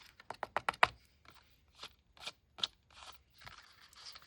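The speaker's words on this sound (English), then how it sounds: "So I'm just going to bring my scissors in and fancy cut around that vellum ephemera piece." Scissors snip around a vellum ephemera piece on white cardstock, starting with a quick run of close, crisp cuts and then continuing in slower, scattered snips, fairly quiet with no talking.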